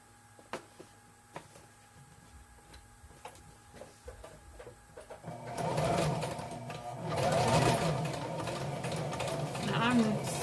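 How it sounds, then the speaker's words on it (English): A foot-pedal sewing machine stitching paper journal signatures starts with sparse clicks and ticks, then runs in a dense mechanical whirr in bursts for the rest of the stretch, with a voice talking lightly under it. "Now, I'm still not real great with the foot pedal yet, guys."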